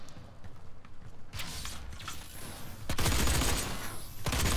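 Gunfire in the Doom Beta video game, a dense crackling barrage of shots with sharp loud bursts building over a few seconds, close and continuous.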